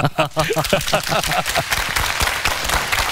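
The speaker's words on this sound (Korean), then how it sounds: "충분히 가능한 박수 한번 주세요" An audience at a lecture concert with a film director breaks into applause: a speaking voice first, then a dense patter of many hands clapping that fills the room and continues to the end.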